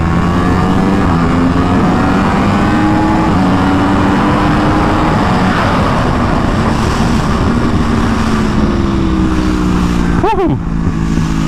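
A 2015 Yamaha YZF-R1 sportbike, geared down one tooth at the front sprocket, screams loudly and continuously on a race track, its engine pitch rising and dropping as it shifts quickly up through the gears.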